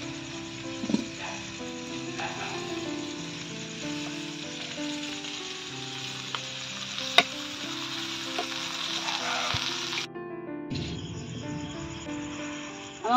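Seekh kebab frying in a pan over a charcoal fire, a low steady sizzle with occasional sharp clicks and crackles, fairly quiet and without talking.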